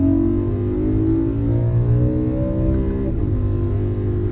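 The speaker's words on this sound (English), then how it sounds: "Man, that engine purrs, doesn't it?" A 2011 BMW E90 M3 engine revving during a downshift, a steady, smooth in-cabin drone that swells slightly in pitch and then settles, continuous and close.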